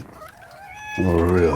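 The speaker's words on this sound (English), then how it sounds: "Sir? That is a cat." A cat in an animated Pinocchio film meows once, loud and close, right after a brief spoken line.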